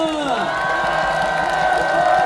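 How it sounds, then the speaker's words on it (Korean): Crowd at an outdoor Korean election campaign rally in Sinchon, Seoul, cheering and applauding steadily, with whoops and shouts rising over the noise and a loud voice carrying through the mix. "여러분, 김문수 후보에게 뜨거운 박수 부탁드립니다"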